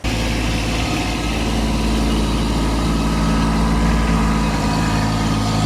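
A tractor engine runs steadily while pulling scrap steel on a hillside range, with a loud, continuous low rumble held close up and no break.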